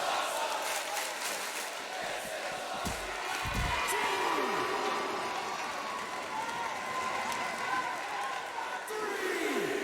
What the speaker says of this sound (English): This crowd enjoying this one.